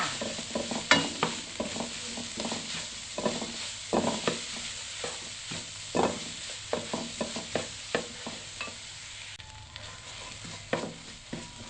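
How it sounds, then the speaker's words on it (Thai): Chopped shallots being stir-fried in a pan, steady soft sizzling broken by repeated scraping and stirring knocks at an uneven rhythm, close and moderately loud with no talking. "จากนั้นใส่หอมแดงสับลงไปค่ะ ผัดให้หอมสุกใสดีค่ะ"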